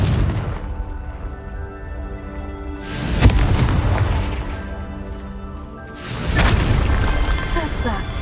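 Two heavy explosive blasts from a Confringo spell in the video game Hogwarts Legacy on PS5, each a loud booming burst that rumbles and fades, a few seconds apart.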